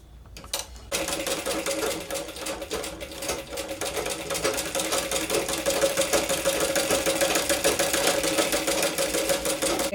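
An electric sewing machine stitches fabric for a baby frock, starting after a moment of quiet and then running in a steady, fast, close whirring hum with a fine mechanical rattle.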